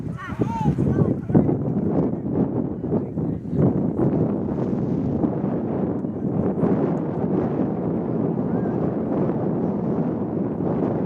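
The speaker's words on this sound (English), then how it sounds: "Wind gust again." Wind buffets the microphone at a Lansdowne Yonkers FC versus Manhattan Celtic soccer match, a steady rumbling roar lasting throughout beneath continuous commentary.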